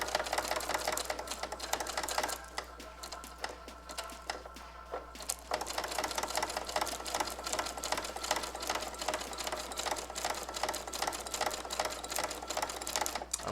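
A Brother SE625 embroidery machine stitches a patch with a steady, rapid mechanical chatter that runs nearly the whole time, briefly easing for a few seconds before resuming at full pace.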